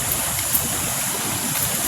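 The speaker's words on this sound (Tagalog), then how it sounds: "Lando, ito na yung ilog sinasabi mo, Lando." A river flows steadily close by, a continuous broadband rush of water with no breaks and no voices over it.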